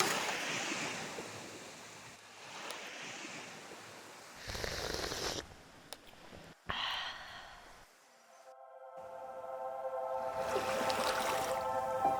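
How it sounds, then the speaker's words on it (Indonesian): Ocean waves wash and hiss continuously against a beach shore at sunrise in Parigi, Indonesia, a steady broadband surf with swells rising and falling, with some wind buffeting the microphone. "deburan ombak yang terus mendesis"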